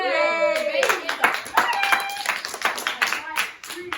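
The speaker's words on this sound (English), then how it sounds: "Okay, applause." Small group of debate teammates clapping, a handful of hands slapping irregularly at close range under ongoing voices and chatter.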